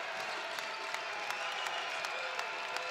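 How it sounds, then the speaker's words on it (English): A basketball crowd cheers on the Chippewas with a steady roar of voices and applause, punctuated by regular sharp claps or stomps spaced about every third of a second. "this crowd trying to help out the Chippewas."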